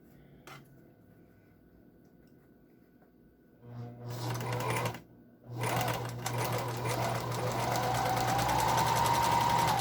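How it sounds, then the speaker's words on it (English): Sewing machine running a straight stitch through N95 face mask pieces, starting after a quiet pause, briefly stopping, then stitching steadily at close range with a low motor hum. "we are going to sew this here on a straight stitch"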